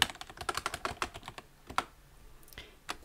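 Quick bursts of keystrokes tap on a computer keyboard at close range, with a fast cluster of clicks followed by a few slower, sparser presses, fairly quiet and with no talking.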